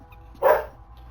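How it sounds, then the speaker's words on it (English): A single short bark from a dog in the Starfield game on Xbox Series X, clear and fairly close against a quiet background. "Stupid dog."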